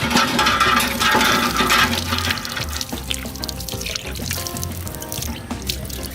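Drinking water runs from a tap or pours into a vessel, a steady splashing gush with gurgling that eases off toward the end, close to the listener and with no talking.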